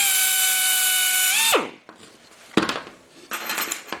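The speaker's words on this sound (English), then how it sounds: "I'm going to go through with this 16th inch bit. I'm going to center it right in the hole." A power drill with a 1/16 inch bit whines steadily at high pitch while boring through a Willys emergency brake shoe, then winds down abruptly, followed by brief metallic clinks and rattles of tool handling.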